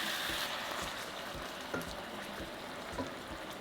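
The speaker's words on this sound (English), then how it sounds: "let it sizzle for a few minutes" Steady, fairly quiet sizzle of tofu frying in sauce in a pan over medium heat, a constant crackling hiss with a few soft pops and clicks.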